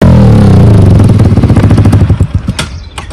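A Yamaha R15 V3 motorcycle fitted with a full-system Akrapovic exhaust runs loud and close, its engine note throbbing and slowly settling toward a rougher idle with a rattly pulse.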